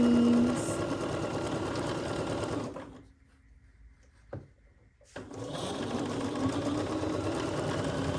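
A domestic sewing machine runs in a steady loud whir stitching through the seams of a quilt block, stops for about two seconds of near silence broken by a single small click, then resumes its continuous stitching hum.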